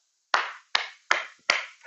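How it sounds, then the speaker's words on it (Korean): Four separate hand claps at a slow, even pace, close and fairly loud, with a brief gap between each and no talking. "솔직히 잘한 건 박수 칩시다"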